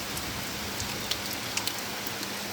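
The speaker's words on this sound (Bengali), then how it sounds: "ও দৌকা বৃষ্টি খালি শুরু হয়েছে" Light rain falling steadily under a cloudy sky, a soft even hiss with a few faint drop ticks, quiet and alone without talk.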